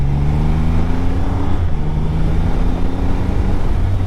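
A Triumph Rocket 3 GT motorcycle pulls hard through the gears, its loud engine note climbing, dropping at a shift, then rising again close by.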